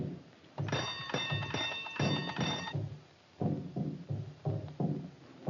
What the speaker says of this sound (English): Ring the bell, Jeff.